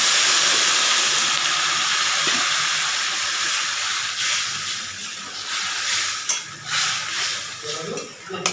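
Water poured into a hot pan of fish-head curry sets off a loud, close hissing sizzle that gradually dies down to softer bubbling and stirring noises, with no speech.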